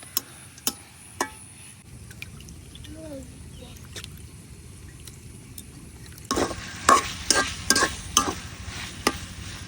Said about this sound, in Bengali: এখন আলুটারে কিছুক্ষণ একটু বাইজা নিয়ে